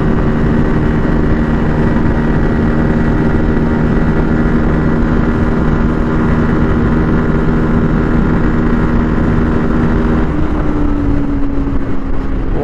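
Bajaj Pulsar N250, a 250cc motorcycle with a five-speed gearbox, cruising steadily at high speed; a loud, continuous engine drone with heavy wind rush runs throughout, its pitch shifting slightly near the end, with no talking.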